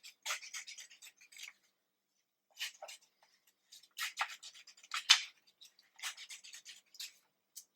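Scissors cutting zigzags into paper for an art project, heard as scattered clusters of quiet, crisp snips and crunches close by, with short pauses between the bursts of cutting.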